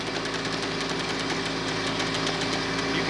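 Tractor engine on a grapple-equipped machine, revved slightly to quicken the hydraulics, a steady loud rumbling drone with a pulsing throb and no clear rise in pitch.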